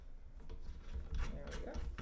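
A muzzle brake being screwed onto the left-threaded barrel of a PSAK-47 rifle, producing close metallic rubbing, grinding and faint ratcheting clicks as it turns, with low background noise.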